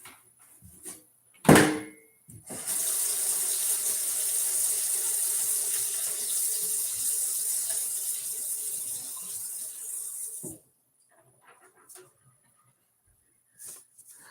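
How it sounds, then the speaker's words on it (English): Tap water rinsing a paint stencil used with Waverly chalk paint, a steady hissing stream running for about eight seconds at close range, preceded by a sharp knock and followed by a few faint clunks in quiet. "And we'll go rinse this off and be right back."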